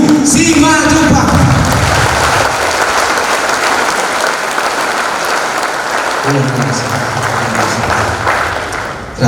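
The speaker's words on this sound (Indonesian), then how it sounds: "Aplaus yang sangat meriah dan tulus untuk Bapak head founder kita, Bapak Anggian Simatupang." Loud, sustained applause from an audience honoring a head founder, dense clapping filling the room at an even level throughout, with crowd noise beneath and a brief swell of cheering near the end.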